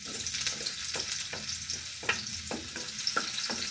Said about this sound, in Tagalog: halu-haluin lang para maluto ang purple onion